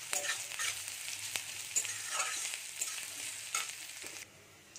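Prawns fry in a hot pan for a cabbage curry, giving a steady close sizzle with crackling pops and a few stirring scrapes, heard alone without talk.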